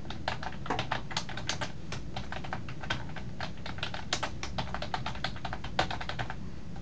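Steady, rapid typing on a computer keyboard while entering text, dense close clicks running almost continuously for several seconds at moderate loudness with no voices.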